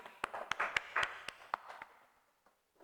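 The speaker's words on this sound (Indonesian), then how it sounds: "Beri tepuk tangan." A handful of sharp, separate claps ring out in a classroom after a student group's presentation, loud at first and then thinning and fading into quiet.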